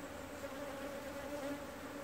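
Honey bees swarming over a hive frame give a steady, dense buzz that holds evenly close by throughout, with no voices.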